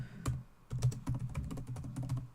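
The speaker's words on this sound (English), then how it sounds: "In fact, I'll just type it up." Quick, close keystrokes clatter on a computer keyboard in short irregular bursts, with a brief pause early on before the typing resumes.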